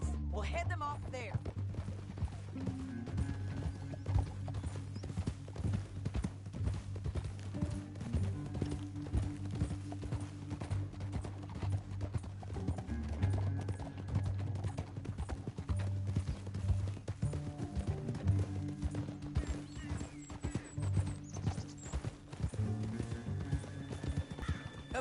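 Steady clip-clop of horse hooves at a brisk pace in Red Dead Redemption 2, with an occasional whinny and a low rumbling backdrop, continuous and close throughout.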